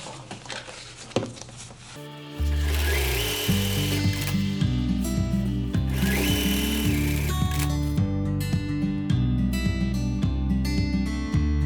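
Sewing machine stitching the sides of a decorative fabric shoulder bag, a steady loud motor drone with a rapid needle rhythm starting after a brief quiet opening and running continuously to the end.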